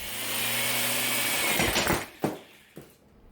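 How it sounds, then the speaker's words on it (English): Cordless battery drill whirs steadily at speed, spinning slightly bent rods fitted with homemade, unbalanced duct-cleaning brushes, then winds down with a few rattling knocks and clunks as it stops. "This battery drill has a rated top speed of about 1300 RPM."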